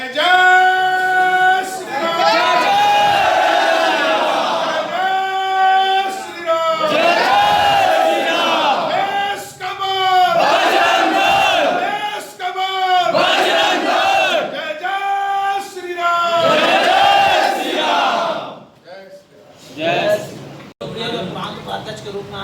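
A crowd at a Chhattisgarh Bajrang Dal officials' gathering chants a religious slogan in loud, rhythmic unison, several bursts of massed voices rising and falling, with a quieter pause near the end.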